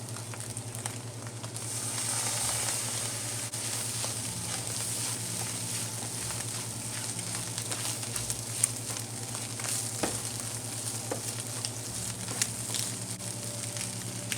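Steamed kale stir-frying with soy sauce in a hot pan gives off a steady close sizzle, with faint scrapes and occasional ticks from stirring and no talking.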